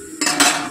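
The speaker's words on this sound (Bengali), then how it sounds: "তো চলো আমি ঢাকা দিয়ে দিলাম" A metal lid set down onto a cooking pot, one short clattering contact with a brief ringing rattle, close and loud.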